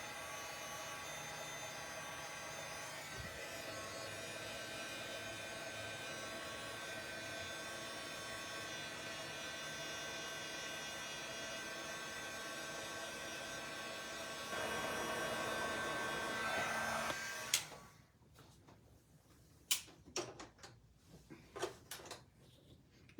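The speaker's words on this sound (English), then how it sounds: "Just let my heat gun warm up for a few moments." An embossing heat gun warming up at a card-making table: a steady, fairly quiet fan-like whir and hum that runs unbroken for about seventeen seconds, then stops, leaving a few small clicks and handling knocks.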